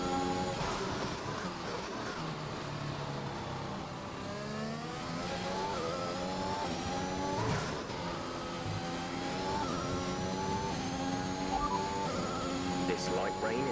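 An F1 car engine in the video game F1 2021 at the Belgian Grand Prix in light rain, a continuous high whine that rises and falls with gear changes, heard under steady commentary talk.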